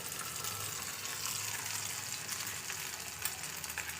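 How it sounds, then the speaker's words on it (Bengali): An egg fries in a pan with a constant hissing sizzle, fairly close and even throughout with no voices. "দেখতে পাচ্ছেন ডিমটা ভাজা হচ্ছে"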